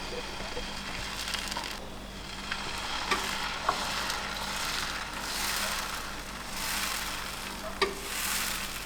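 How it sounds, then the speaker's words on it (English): Dosa or chila batter of gram flour and rice flour cooking on a hot pan, a steady moderate sizzle with a few soft taps and scrapes, close and continuous. "using the batter to make thin, crispy dosas or chilas"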